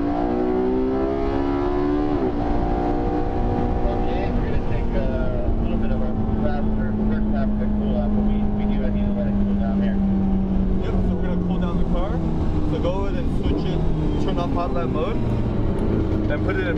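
Porsche 918 Spyder engine at speed on the Circuit of the Americas race track, a steady loud drone with pitch sweeping gradually down then holding, continuous for the whole stretch with no pause.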